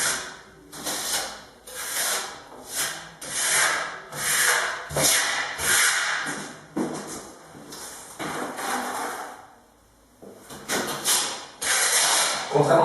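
A steel trowel scrapes and smooths the second coat of waxed concrete in long, rhythmic rubbing strokes, each sweep rising and fading, with a brief pause near the end.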